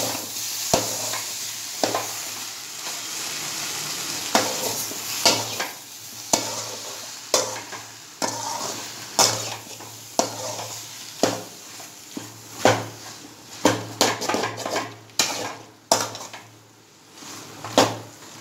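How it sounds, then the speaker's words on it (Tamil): Cauliflower and mushroom masala with tomato fries in a pan, a continuous sizzling hiss broken by many sharp scrapes and clacks of a spoon stirring against the metal, growing busier toward the end, close and with no talking. "இது நல்லா கொஞ்சம் ஆயில் செப்பரேட் ஆகிற வரைக்கும் நல்லா இதை ஃப்ரை பண்ணுங்கள்."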